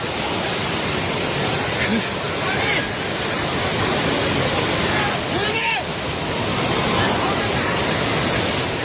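The floodwaters of the Trishuli river rush in a continuous, loud, broadband roar that fills the whole span, with faint voices of people talking underneath.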